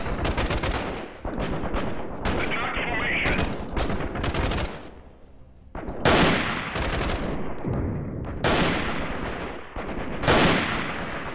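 Loud bursts of automatic gunfire in the video game Freeman Guerrilla Warfare, during a siege: sustained volleys of rapid shots break into several separate waves with short pauses between them, and no talking.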